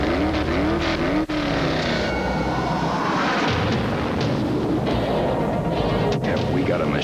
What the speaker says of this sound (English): for whom the roar of fully blown horsepower is a lullaby.